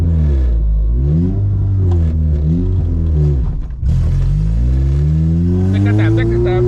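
A 2ZZ-GE-powered Corolla race car engine revs loudly up and down in repeated rising and falling sweeps, close and dominant, with a brief dip before climbing again and voices talking underneath.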